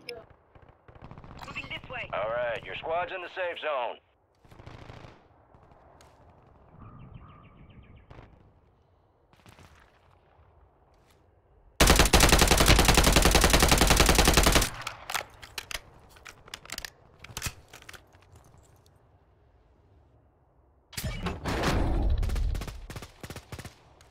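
Bursts of Warzone 2.0 gunfire, with a long, loud, sustained volley in the middle and another dense burst near the end, mixed among scattered shots, clatter and intermittent talk and laughter.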